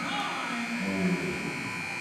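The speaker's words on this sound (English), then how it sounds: "As the buzzer sounds," A basketball game buzzer drones as one continuous, steady buzz during an alumni game in a gym, heard under a commentator's voice and crowd noise.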